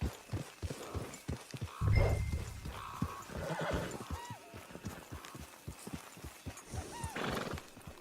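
A horse in Red Dead Online neighs sharply while its hooves thud in a steady clip-clop rhythm near a camp, with a second whinny near the end over faint ambient noise.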